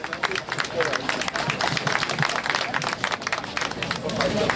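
Audience applause at a memorial plaque unveiling in Warmia, Poland, a dense continuous wash of clapping hands holding steady throughout with murmuring voices mixed in.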